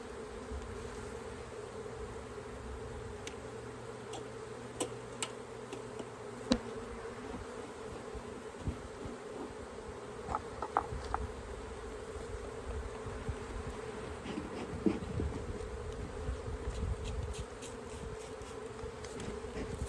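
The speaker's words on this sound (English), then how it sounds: "You see all these bees are left in the box." Honey bees buzz steadily around a hive box on a homestead, a dense continuous drone close by with occasional individual bees passing near, no voices.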